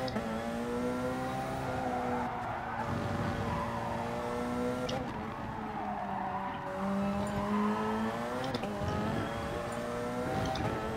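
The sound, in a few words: race car losing rear grip and skidding in video game Gran Turismo Sport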